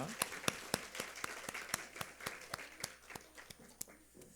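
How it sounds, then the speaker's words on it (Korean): A church congregation at a Sunday morning service claps in unison after a worship song, sharp evenly spaced claps at about four per second, fairly distant and echoing. "우리 찬송 가운데 임하신 하나님께 감사와 영광의 박수 올려드리겠습니다"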